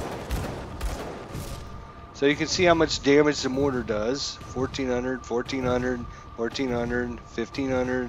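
Mortar fire in Grim Dawn, a few heavy booming blasts at the start, then someone talks steadily over faint in-game sound.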